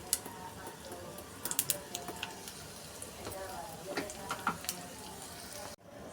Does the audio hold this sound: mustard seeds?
yes